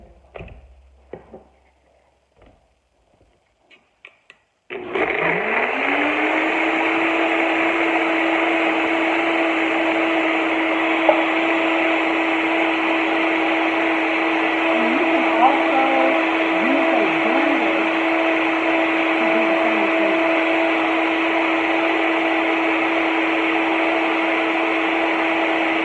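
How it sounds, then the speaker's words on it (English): A few quiet clunks, then a blender starts up and runs loudly and steadily, with a slight rattle as it churns a smoothie with ice. "Sometimes you have to run your blender"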